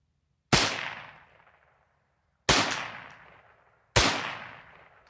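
A Savage 187N rifle test-fired, three sharp isolated shots spaced about two seconds apart, each a loud crack with a short decaying ring, in otherwise quiet surroundings.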